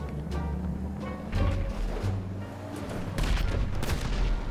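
Gunfire bursts in GTA V during a chaotic car-bomb match, several rapid volleys over a dense game soundscape with rumbling engine tones, loud and close throughout.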